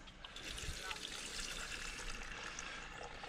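Fresh water trickling from a tap in a Land Rover Defender 130 camper, a steady close splashing flow that runs throughout with faint voices underneath.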